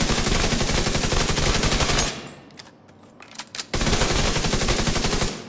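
Rapid automatic gunfire from a capacitor-charged gun in a shooter video game, a dense loud burst of shots that stops for about a second and a half, then resumes just as loudly.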